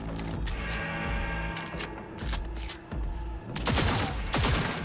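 A tech pistol firing bursts in Cyberpunk 2077: loud, dense clusters of rapid electronic gunshots with mechanical clatter, separated by short gaps, close and continuous.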